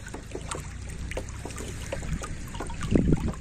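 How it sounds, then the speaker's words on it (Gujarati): Slow irrigation water from a motor pump trickles along channels into a cumin field, a soft continuous babble broken by small gurgles and drips, close by and rising slightly near the end. "આવી રીતનું ધીમી ગતિથી પાણી પાઈ રહ્યા છીએ"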